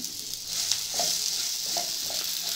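Dry coconut frying with garlic, ginger and onion in a pan for a chicken sambar: steady bright sizzle throughout, close and fairly loud, with a few light stirring clicks and no voices.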